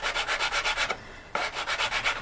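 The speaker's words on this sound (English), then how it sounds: "just kind of round off, chamfer that a little bit" A file rasps steadily across the tabs of a GameCraft tank transport model kit to chamfer them, giving about a dozen quick, even back-and-forth strokes, close and alone, with one short pause midway.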